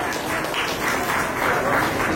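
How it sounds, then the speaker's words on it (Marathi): An audience claps together at a family ceremony, a dense, steady round of applause from a crowd, fairly loud and close throughout the short stretch. "त्यासाठी जोरदार टाळ्या होऊन जाऊ दे"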